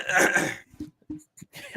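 A person gives a single harsh cough or throat clear at the start, followed by a few faint, scattered throat and breath sounds.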